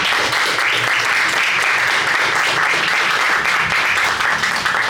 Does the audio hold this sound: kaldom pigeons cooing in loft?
no